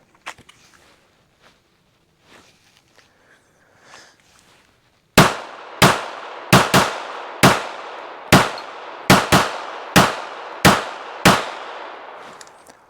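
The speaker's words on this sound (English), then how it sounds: "We'll just do some more random shooting here." A Ruger LCP MAX pocket pistol is fired rapidly with a ten-round magazine: after a few quiet seconds of faint handling noise, about ten sharp, loud reports crack out in quick, slightly uneven succession.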